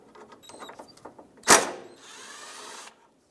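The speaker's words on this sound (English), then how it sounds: "let's remove the two 10 millimeter bolts that hold on this radiator support on both sides" A power tool spins out a 10 millimeter radiator support bolt on a 2012-2020 Ford Focus, with a sharp loud clank followed by a steady whirring run that stops abruptly, after some softer tapping and handling.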